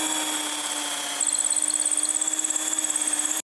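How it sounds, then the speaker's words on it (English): A power drill bores a hole into a wooden workbench piece down to a depth flag, a steady high whine running close and loud without a break before cutting off abruptly at the end. "I can drill the rest of it down to my flag"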